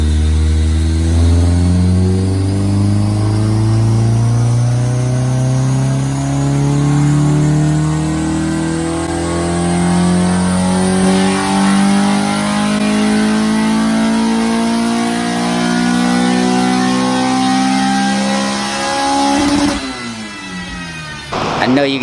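A Honda Type-R engine revs hard on a dyno, its loud, steadily climbing pitch rising through the rev range as VTEC engages, then cutting off abruptly near the end with a brief burble.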